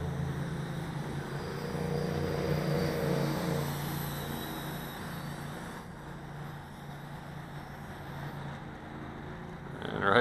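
A Syma X9 flying car toy in flight gives a steady, continuous motor and propeller whine that holds fairly constant before easing slightly, with no talking over it.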